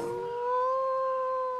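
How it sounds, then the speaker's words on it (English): A dire wolf from the ARK Foreworld Myth mod lets out a single long, clear howl, loud and near, holding a steady pitch with a slight rise before sustaining to the end, with nothing else behind it. "a normal wolf sound"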